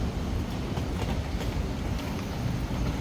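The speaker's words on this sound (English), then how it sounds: "Literally just missed the Sky train." An elevated Bangkok Skytrain rumbles steadily as it departs, with a broad, continuous roar and faint rhythmic clatter, close by and loud throughout.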